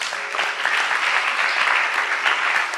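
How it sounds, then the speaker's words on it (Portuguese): A congregation at the Igreja Semente de Fogo do Recreio church applauds, a steady, full wash of many hands clapping together at moderate loudness for the whole stretch, with no break. "Uma salva de palmas para o Marquinhos"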